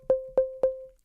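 Three evenly spaced, quiet plucked notes from a simple synth built on two plain sine waves with the filter switched off, each a clean pure tone with a soft attack that decays quickly.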